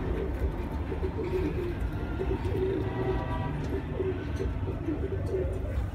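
Chuhay kabootar pigeons coo in soft repeated bursts alongside a steady low rumble and background noise, with faint voices nearby.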